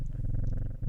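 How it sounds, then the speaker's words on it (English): A cat purrs when petted in the video game Strange Horticulture, a close, steady rhythmic rumble pulsing continuously through the short moment with no talk. "Pet the cat."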